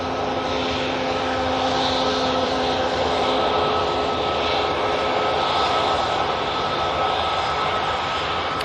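Aircraft taxiing at Manchester Airport, a steady close engine roar with a whining hum that holds for the whole stretch, a faint rise and fall in level and no talking.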